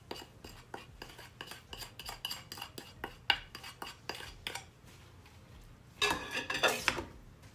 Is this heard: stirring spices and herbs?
yes